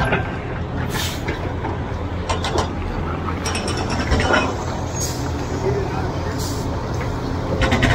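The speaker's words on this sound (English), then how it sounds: "We'll put about 100 spins on that drum." A concrete truck's mixer drum turns steadily, a continuous mechanical churn and rattle with occasional clanks and hisses from the truck. A person talks over it.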